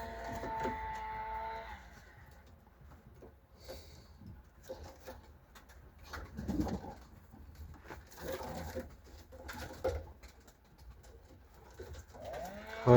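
Pakistani breed pigeons coo in a loft, repeated throaty coos and soft wing flutters at close range, with scattered rustling and no talk.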